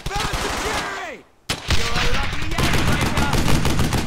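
Dense, loud gunfire from Brothers in Arms: Hell's Highway, with rapid overlapping shots and bursts, broken by a short near-silent gap and then resuming hard; brief voice-like tones come through early on.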